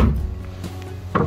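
A hotel room drawer in a double room at the Hilton York is opened or closed, giving a few soft wooden knocks and a rub, with a firmer thunk near the end, all fairly quiet.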